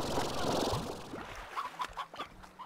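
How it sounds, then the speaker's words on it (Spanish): Chicken clucking in the video game Slime Rancher, a few short, scattered clucks in the second half following a burst of louder game noise. "Por aquí oigo otra gallina."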